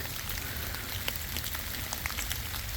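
Steady rain patters down in the woods, a soft continuous hiss with scattered individual drops tapping on leaves and ground.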